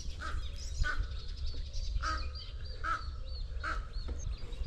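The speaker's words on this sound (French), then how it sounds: "il y a des corbeaux juste ici." Crows caw beside a lake, several distinct calls spaced through the stretch, at moderate distance over a steady low outdoor rumble.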